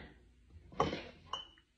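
Glass pint jars clink together twice, first a sharp knock and then a lighter tap, close by and fairly quiet, with no voices.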